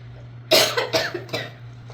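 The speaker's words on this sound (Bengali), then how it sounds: "কাশি এসে পড়ছে" Three close, harsh coughs in quick succession from someone preparing a chili-spiced mash of sour leaves, with a faint steady hum underneath.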